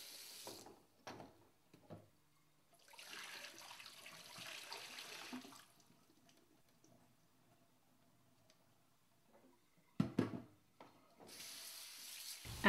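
A kitchen faucet runs in intermittent bursts while dishes are washed, water gushing into the sink between quieter pauses, with faint clinks and clicks, no speech.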